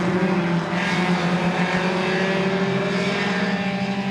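Several short track race cars run close together in a pack, their engines blending into a loud, continuous roar with slight surges as they jostle for position.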